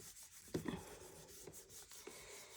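Vinyl decal transfer tape rubbed down onto a cup, a short scraping rasp of rubbing with a few soft strokes, close and quiet, no voices.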